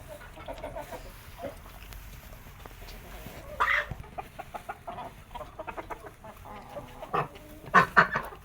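Hens and silkie roosters cluck and chatter nearby in irregular bursts, with a few louder squawks standing out over a quiet yard background.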